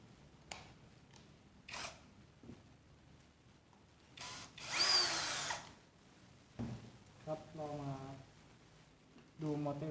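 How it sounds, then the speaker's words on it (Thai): Short whirring bursts of a power drill removing screws, several brief runs with pauses between, alongside quiet handling noises and someone talking. "ผมจะใช้สว่านถอดนะครับตัวนี้"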